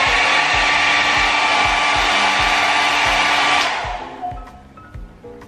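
Kris Travel 600-watt hair dryer running on its highest setting, a loud steady airy whoosh with motor whine that cuts off after about three and a half seconds, leaving faint clicks and handling noise.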